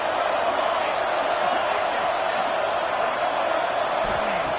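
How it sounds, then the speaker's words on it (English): A stadium crowd at a Memphis vs FAU college football conference championship game roars in a steady, dense wash of cheering that holds at an even level throughout. "Listen to the crowd energy here in the early going."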